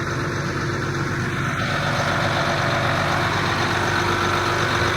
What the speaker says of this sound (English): Oh, it's a nice tractor.